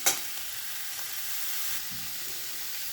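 Mixed winter vegetables for a Bengali-style curry, salted and being stirred in a hot pan, give a steady soft sizzle with an early scrape of the spatula.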